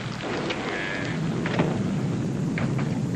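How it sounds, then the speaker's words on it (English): Rain falls heavily in a 1944 film soundtrack, a constant wash of downpour with a low rumble of thunder rolling underneath, steady and fairly loud with no voices. "The rain that's falling down,"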